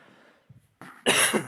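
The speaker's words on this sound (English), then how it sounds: "Excuse my coughing." A man coughs a few times, softly at first and then with one louder, harsher burst near the end, close and alone over near silence.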